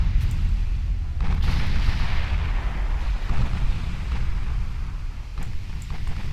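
Naval guns fire and shells land in Ultimate Admiral Dreadnoughts, a dense, loud, low rumbling barrage of booms with a few sharper blasts standing out.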